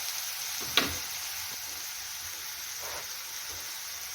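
Chopped onion, garlic and grated ginger frying in a pan, giving a soft, steady sizzle with a few faint stirring clicks throughout.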